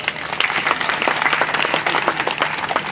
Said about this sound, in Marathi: जमलं तर परत एकदा टाळ्या वाजवा